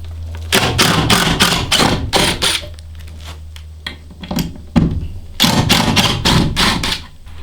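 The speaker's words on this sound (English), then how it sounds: "we can pry and pull our windows out" Old school bus windows are worked loose, with several clusters of sharp knocks, thuds and scraping clatter up close, separated by short quiet gaps.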